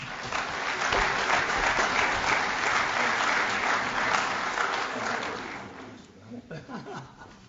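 An awards ceremony crowd at the Kansas City DiRenna Awards applauds heartily for several seconds, then the clapping thins into scattered claps and a few chuckles.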